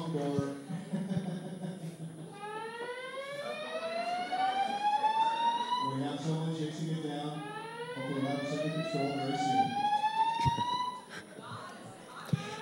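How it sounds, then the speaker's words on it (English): A fire alarm at an Earth Day film and fashion festival gives two long, loud, repeated rising electronic whoops. Crowd noise and talk are heard underneath. "I heard that one of our contestants' elbows just hit the fire alarm"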